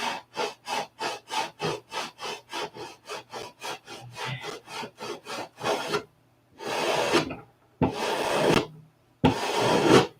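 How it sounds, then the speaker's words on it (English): Coarse 80-grit sandpaper worked hard over a wooden block, a fast run of rhythmic rasping strokes that gives way to a few longer, slower scrubbing passes, close and loud with no talk. "I'm getting after it here with 80 grit"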